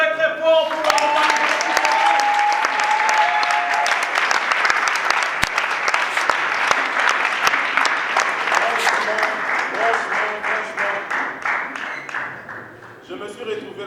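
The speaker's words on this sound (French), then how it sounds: "applaudit très très fort pour la campagne" A theatre audience at a stage play applauds loudly at full strength, then the clapping thins into scattered, uneven claps toward the end.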